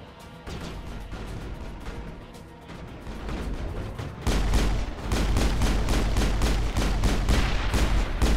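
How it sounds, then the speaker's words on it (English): Grenade blast in Mass Effect 1 amid ongoing gunfire, a loud heavy burst midway followed by rapid repeated shots and booming combat noise. "Dang, I threw a grenade again."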